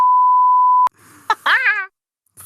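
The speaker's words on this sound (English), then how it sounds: "What the viewers heard there was a prolonged beeping sound." A steady censor beep holds a pure tone for nearly a second before cutting off with a click, followed by brief quirky vocal noises from a podcast.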